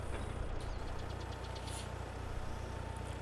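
A tractor engine idles in a farming video game: a low, steady, faintly knocking rumble with no talk, fairly quiet and unchanging.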